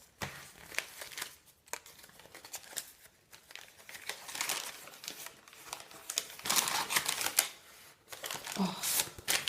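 A paper bag being handled for a junk journal, crinkling and rustling in irregular bursts, close and fairly quiet, with occasional louder crumples.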